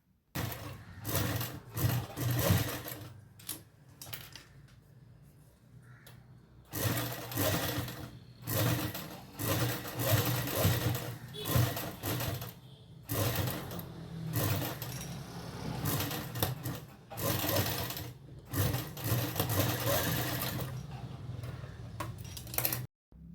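Sewing machine stitching tucks into a dress during an alteration, running in long steady whirring bursts with brief pauses between seams, close and fairly loud, no talk.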